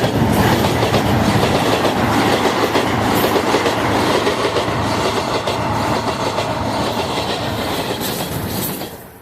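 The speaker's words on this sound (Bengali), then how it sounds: "কিছুক্ষণ পরে রেল আয়া পড়ছে" A train rolls past on railway tracks at close range, loud and continuous with steady clickety-clack of wagons and some wheel squeal, fading at the very end.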